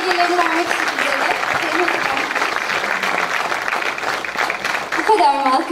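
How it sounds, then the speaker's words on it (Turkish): Audience applause at a folk music choir concert by a municipal orchestra in Nicosia, a dense sustained crowd clapping for about five seconds, with a voice speaking over it near the start and again at the end. "Sayın Serap Sayar ve Arkın Sayar'a kocaman bir alkış daha rica ediyorum."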